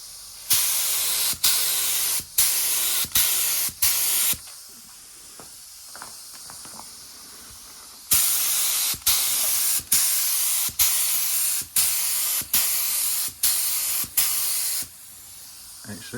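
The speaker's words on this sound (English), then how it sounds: "I will do a brief video of me actually doing some spraying" A spray gun hisses in loud repeated bursts, each about a second long, with short gaps and a quieter pause midway, spraying paint onto BMW E38 728i leather upholstery.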